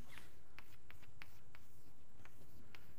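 Chalk or marker strokes tapping and scraping on a lecture-hall board, a series of short, sharp ticks spaced irregularly over a low room hum, with no voices.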